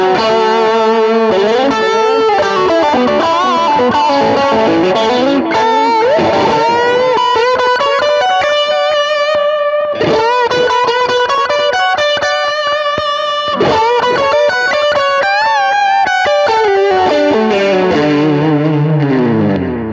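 An electric guitar runs through a Black Pepper low-gain germanium boost pedal with delay added, playing a continuous, loud melodic line of sustained, slightly driven notes and chords with echoing repeats trailing behind them.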